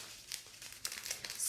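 Plastic packaging of diamond art beads crinkles and tears open in short, close bursts, quiet and brisk with no talking.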